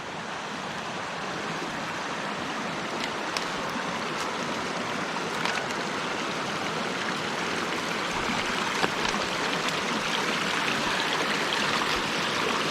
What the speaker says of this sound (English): That water's moving pretty good.